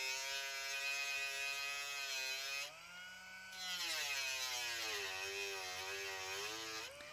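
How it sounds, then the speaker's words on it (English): A die grinder with a small cutoff wheel cuts metal in a steady high-pitched whine that briefly drops in pitch as the wheel bogs into the cut. The pitch then climbs and wavers again, close and continuous throughout. "Now this die grinder"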